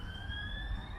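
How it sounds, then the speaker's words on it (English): A police car siren wails steadily at a distance for about a second, with low traffic rumble beneath it and no talk. "Police car."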